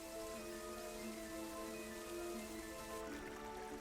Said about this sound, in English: Because the running water around them is very loud